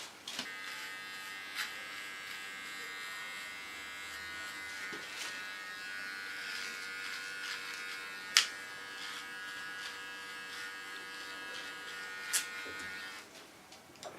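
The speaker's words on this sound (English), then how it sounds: "now clean it with a small clipper" A small electric hair clipper trims hair during a haircut on long thick hair, a steady close buzzing hum running throughout with a few faint clicks and taps.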